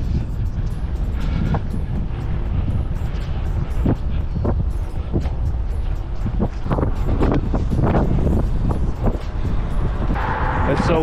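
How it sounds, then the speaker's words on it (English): Strong wind buffeting the microphone outdoors in West Palm Beach during a bike ride, a constant loud low rumble with gusty thumps, and someone talking intermittently over it. "It's so windy today, guys,"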